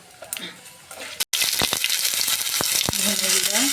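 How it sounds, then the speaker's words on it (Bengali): Dried red chillies, bay leaves and whole garam masala hit hot oil for a cauliflower roast, giving a loud, steady close sizzle with crackling pops and brief clatters; a near-silent break comes just after one second. "তেলটা গরম হয়ে গেছে শুকনো লঙ্কা দুটো তেজপাতা আর গোটা গরম মশলা ফোড়ন দিয়ে দিলাম"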